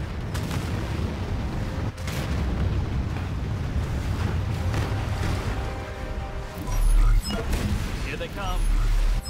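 A nuclear missile blast in the futuristic strategy game Anno 2205 rumbles as a dense, loud, sustained roar with deep booming swells, and a heavier low thump rises near the end, all under a game voice.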